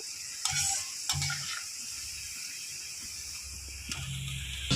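Sliced onions for birista crackle in hot oil under a steady hiss, punctuated by a few sharp stirring scrapes and knocks of the utensil; no talking.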